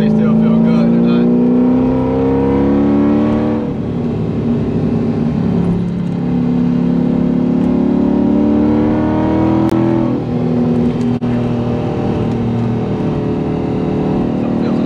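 A C5 Corvette Z06 on Nitto NT555 G2 tires drives through curves, its loud engine droning close inside the cabin and its pitch rising and falling with the throttle, with road rumble beneath.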